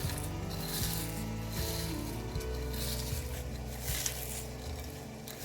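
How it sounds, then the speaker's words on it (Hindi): Browned fried onions being crushed by hand, giving close, continuous crackly rubbing and crumbling with a low steady hum underneath, no voices. "मैं हाथ से पीस रही हूँ।"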